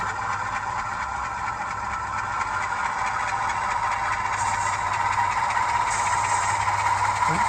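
A model diesel locomotive with a LokSound V5 sound decoder runs its motor test, a steady idling engine drone with a throbbing low rumble and mid hum, close and continuous, with no voices.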